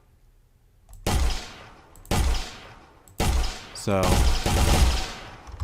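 Simulated gunshots fire in a video game engine physics test: four loud, abrupt blasts roughly a second apart, each with a sustained, decaying tail, plus a brief spoken word.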